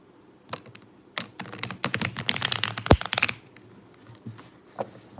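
Tarot cards riffled and shuffled by hand in quick, crisp bursts of papery clicks, a close-up flurry that swells then tapers off into a few scattered taps.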